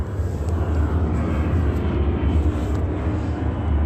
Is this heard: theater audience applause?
no